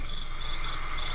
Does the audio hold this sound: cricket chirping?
yes